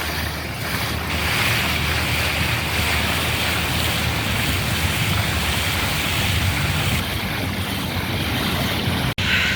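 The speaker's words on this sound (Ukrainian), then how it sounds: "Люблю бути біля водички, навіть такої штучної." Water at an artificial pond makes a steady, washing rush mixed with outdoor wind noise, continuous and fairly loud throughout with one brief dropout near the end.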